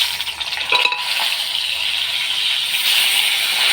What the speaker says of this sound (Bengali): এখন মিষ্টি কুমড়োগুলো দিয়ে দেবো।